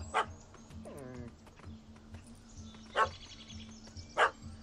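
A puppy in the video game Witcher 3 barks and yips in short bursts, with a whimpering whine between barks, fairly close over faint game ambience.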